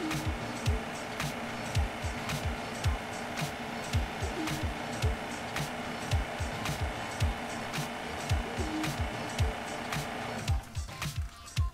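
A refrigerant recovery machine, a Bacharach ECO-2020, hums steadily with a rapid, regular clicking or ticking throughout its purge cycle, then the running noise drops away near the end as it shuts down.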